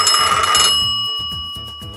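A voice imitates a ringing telephone, producing a bright, steady electronic-style trill that rings out loudly at first and then continues more softly in quick repeating pulses, with no talking.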